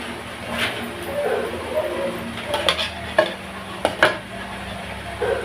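All-purpose cream and condensed milk being mixed for a mango graham float, a soft steady swishing with a few sharper clinks of the utensil against the bowl, close and continuous with no talking.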